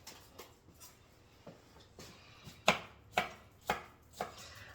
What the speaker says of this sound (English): Sorry, got to move all the garlic stuff out of the way so I can cut up the pepper.